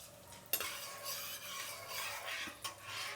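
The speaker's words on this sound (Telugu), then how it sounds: "ఇప్పుడు అది వేయించుకుందాము." Urad dal frying in a pan for Iyengar-style vangi bath, stirred with a spoon: steady scraping and rasping strokes with a low sizzle underneath, a sharp clink at the start and another near the end.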